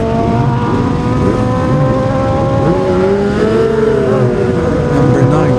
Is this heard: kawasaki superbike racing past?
yes